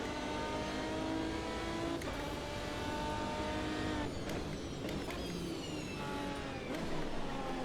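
Aston Martin race car in Automobilista 2, a 2005 multi-class racer, engine revving hard through rising pitch sweeps with sharp gear shifts, loud and close, accelerating repeatedly.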